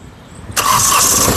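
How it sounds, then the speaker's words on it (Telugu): A 2015 Hyundai Xcent SX car engine cranks briefly and catches on the first try, jumping into a loud, steady idle close by; no voices. "సింగిల్ సెల్ఫ్లో కార్ స్టార్ట్ అయితే ఎటువంటి స్టార్టింగ్ ట్రబుల్ అయితే లేదు"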